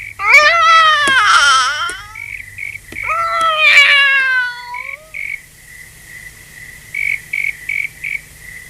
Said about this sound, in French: Viens ici, mon chat, viens ici.